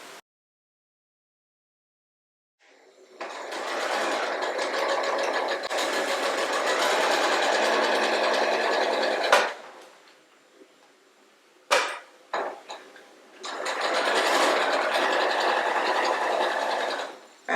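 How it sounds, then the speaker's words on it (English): A sewing machine stitches diagonal lines across quilt blocks for quarter-square triangles, running in two long steady bursts with a short pause and a few brief clicks between them, loud and close. "I will now sew along each of these lines and cut in the middle"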